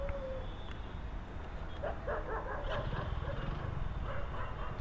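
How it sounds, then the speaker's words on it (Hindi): Several dogs bark and yip in short bursts around a Zomato delivery scooter on a Mumbai street, mid-distance over steady road and engine noise. "यहाँ पे काफ़ी सारे कुत्ते पीछे लगते हुए ये देख सकते हो आप लोग।"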